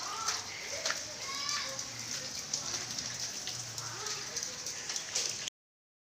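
A first-ever hailstorm in Jajori, Assam, with hail and rain hammering down steadily close by, and children's voices faintly heard through the rain before it cuts off abruptly.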